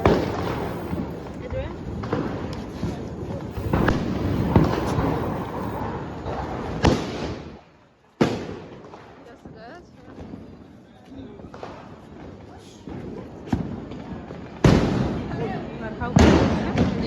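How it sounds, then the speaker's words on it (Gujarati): Sharp bangs and crackling pops of Diwali firecrackers burst repeatedly, some loud and close, amid background chatter and outdoor noise. "અમે બધા આવ્યા છે ફટાકડા ફોડવા"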